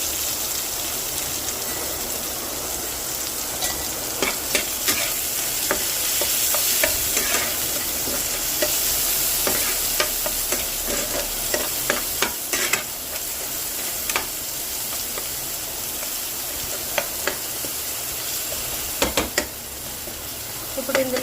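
Onions frying in a pan for vegetable pasta, a steady close hiss of sizzling oil with intermittent scraping and tapping of a spatula.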